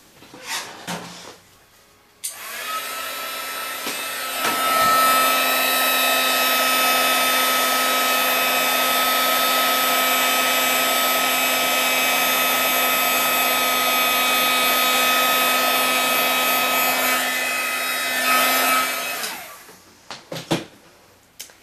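An embossing heat tool blows steadily for about seventeen seconds, warming and melting embossing powder over a stamped image. The close, loud, even whir has sharp clicks marking the switch on and off.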